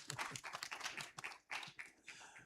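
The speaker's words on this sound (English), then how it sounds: "A big applause." Scattered, fairly faint applause from the audience at the WFO Annual Meeting, a loose patter of clapping that swells and thins over a couple of seconds with a brief lull midway.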